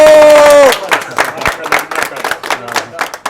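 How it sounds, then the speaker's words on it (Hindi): Audience applause and crowd murmur at a gathering of music masters and disciples, scattered uneven clapping following a sustained sung note, with voices mixed in. "तालियां, माशाल्लाह माशाल्लाह।"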